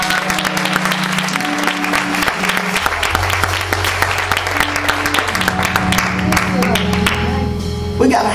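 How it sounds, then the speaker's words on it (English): A church congregation claps along steadily throughout, dense and continuous, over sustained organ and music tones with a preacher's voice mixed in. "Clap your hands if you love."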